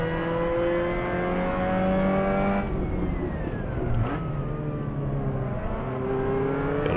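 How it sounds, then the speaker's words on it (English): Race car engine in Assetto Corsa revving high, then a sharp drop in pitch near the middle as it downshifts, followed by rising revs again; a continuous close whine with no talk. "I downshift too early and unsettle the car once again"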